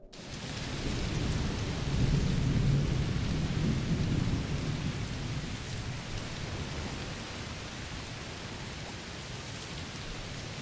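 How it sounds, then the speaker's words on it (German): Heavy rain pours with rumbling thunder in the video game A Plague Tale: Requiem, a steady downpour with a deep roll of thunder swelling early and then easing, no voices present. "Oh, es regnet ganz schön doll. Ja, wohl ein Hitzegewitter."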